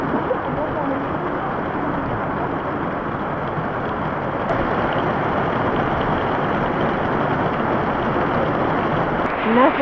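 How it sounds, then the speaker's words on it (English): Steady rain falls in the Costa Rican jungle near the Mistico hanging bridges, a dense continuous wash of drops on leaves and surfaces heard close and even throughout. "Nothing like rain in the jungle."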